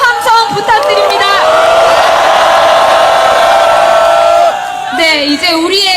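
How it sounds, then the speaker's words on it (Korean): A rally crowd at a candlelight gathering in front of the National Assembly cheers and whoops loudly. A sustained roar of voices and applause fills the space, with people shouting close by, before it fades into scattered voices. "여러분 전현희 최고위원님께 다시 한번 큰 박수와 함성 부탁드립니다"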